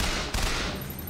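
Gunfire from a weapon in the first-person shooter Bioshock Infinite bursts loudly across a short moment, a dense rattling blast with one sharper report near the middle.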